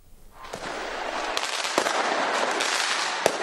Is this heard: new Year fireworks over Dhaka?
yes